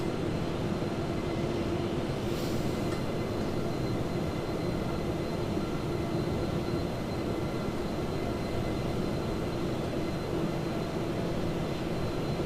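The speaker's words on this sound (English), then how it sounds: "We're taxiing to take off." A Boeing 737-800 taxis for takeoff in Microsoft Flight Simulator 2020, Jet2Holidays livery at London Luton, with a steady, droning jet engine rumble and hum that holds level throughout, no voices.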